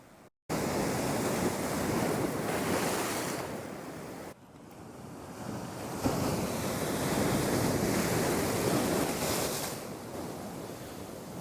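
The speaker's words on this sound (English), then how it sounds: "That was a big swell." Big sea swells surge and crash against a rocky shore on the North Tyneside coast, a loud continuous roar of surf with heavy wind noise on the microphone.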